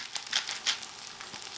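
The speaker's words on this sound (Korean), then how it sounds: "자, 밥에 잘 묻도록 볶아주시면 완성입니다." Pork belly fried rice stir-fried in a pan: a steady, fairly quiet sizzle with light scraping and stirring clicks, no voices.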